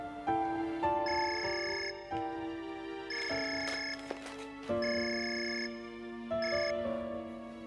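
A telephone ringtone sounds while calling someone, a bright electronic melody repeating in about four separate bursts with short gaps, clear and moderately loud.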